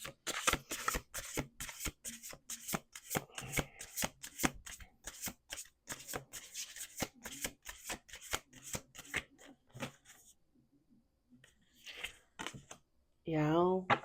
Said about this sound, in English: 4 on the table, last shuffle.